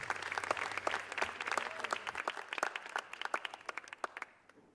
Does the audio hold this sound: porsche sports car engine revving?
no